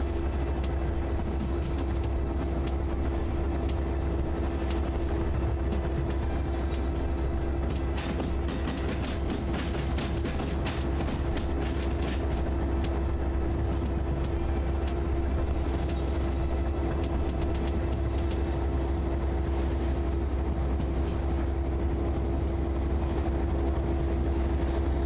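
A Yugoslavian shunter locomotive from the train game Derail Valley running steadily, with a continuous loud engine drone, a constant low tonal hum and rattling clatter across the whole stretch, with no talk.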